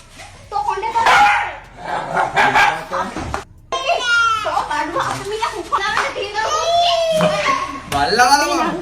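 A dog barks, yips and whimpers in loud bursts throughout, mixed with overlapping voices of people and someone talking close by.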